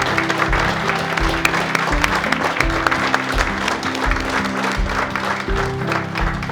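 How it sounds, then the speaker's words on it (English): A room of guests at a county boxing board awards breakfast in Cork claps for the award winners. The applause is dense and sustained, with many hands beating steadily throughout. "give a collective round of applause for our awardees this morning"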